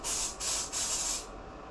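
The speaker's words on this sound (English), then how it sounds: "Blow some brake clean" Brake cleaner is sprayed onto Holley carburetor jets from a 1961 International Harvester B-163 bus, coming as three quick, close, hissing aerosol bursts in a row, the last trailing off into quiet.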